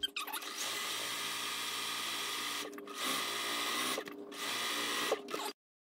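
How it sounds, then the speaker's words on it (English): A sewing machine stitches a pink fabric strip for an Easter pillow, a steady close whirring hum running in three sustained bursts with short pauses between, then stopping abruptly. "We'll take this back over to our machine, get this sewn, and get going from there."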